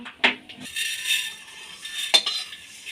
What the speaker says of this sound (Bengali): এবার আমি ডালটা কুকারের মধ্যে ঢেলে নেব